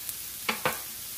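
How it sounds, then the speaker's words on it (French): Potatoes grilling in a pan for ratatouille, a steady close sizzle with two soft stirring scrapes partway through, no voices. "Je vais les laisser aussi griller tout en les remuant de temps en temps."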